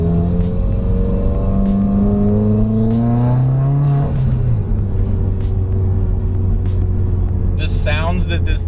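A dyno-tuned 300 hp Subaru WRX accelerates hard, its loud engine and intake note rising in pitch, dropping at a gear change around midway, then climbing again, heard steadily from inside the car.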